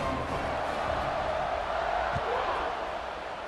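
A stadium crowd in an American college football video game keeps up a steady, dense roar of cheering throughout, with a commentator talking over it.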